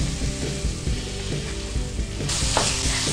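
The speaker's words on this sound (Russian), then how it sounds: "И обжариваем это все еще пару минуток." Minced meat sizzling in a pan with oregano, paprika, chili and sugar for chili con carne, a dense steady crackle with rhythmic stirring scrapes, louder hiss near the end.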